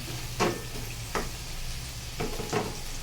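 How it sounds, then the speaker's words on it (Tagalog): Shrimp paste (alamang) sautéing in a pan, a soft continuous sizzle broken by four sharp scraping stirs of a spatula, close and fairly quiet, with no talking. "gisa lang natin mabuti yung alamang"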